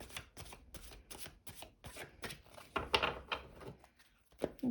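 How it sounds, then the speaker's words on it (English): Tarot cards are shuffled by hand in quick, repeated riffling bursts, close and fairly quiet, with a few soft taps and a slightly louder flurry near the middle. "Okay, we'll do one last shuffle."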